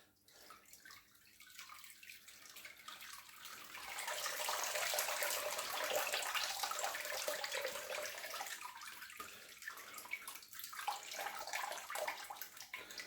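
Warm whey drains from a cheddar cheese pot into a basin, a steady trickling and gushing of water that swells louder midway through, then eases back to a continuous pour.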